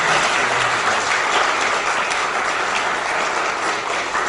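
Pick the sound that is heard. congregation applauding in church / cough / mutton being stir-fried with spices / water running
congregation applauding in church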